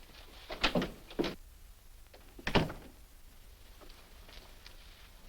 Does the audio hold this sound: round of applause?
no